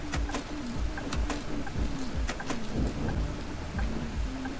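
Steady rain with rumbling thunder in the driving game Bus Simulator 21, a continuous dense patter under repeated low rolls, with no talking.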